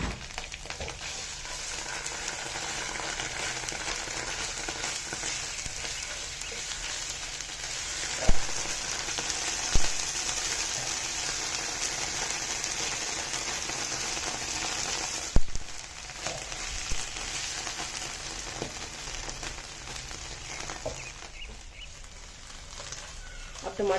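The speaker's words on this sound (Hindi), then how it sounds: "अब लहसुन और अदरक के पेस्ट को भी इसमें 2 मिनट तक फ्राई होने देना है।" Garlic, ginger and tomato paste frying in a pan give a steady, soft sizzle like light rain, broken by a few faint clinks of stirring.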